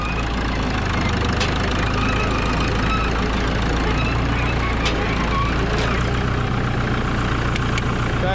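Caterpillar D2 bulldozer diesel engine chugging steadily up close while the crawler reverses, a loud continuous low rumble with faint knocking and occasional clanks throughout.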